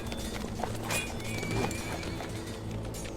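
Horse hooves clip-clopping steadily beneath a rider, with a brief whinny mixed in, all close and fairly loud over a busy outdoor background in a historical drama.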